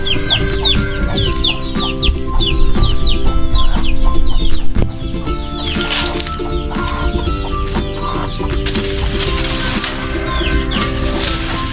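Chickens cluck and chatter continuously nearby in a shaded backyard, with occasional louder squawks and a rooster-like call, no talking.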